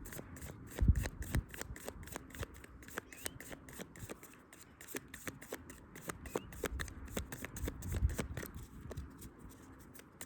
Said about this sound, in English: I'm taking another card for that